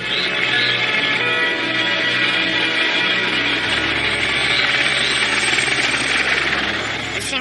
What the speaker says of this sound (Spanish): Cuando escuchamos el helicóptero